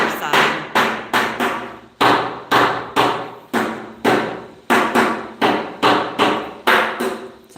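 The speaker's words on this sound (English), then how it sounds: "I'm waiting on the hammering" Hammer blows ring out during house framing, about fourteen sharp, loud strikes in a steady, even rhythm, close by and with no talking.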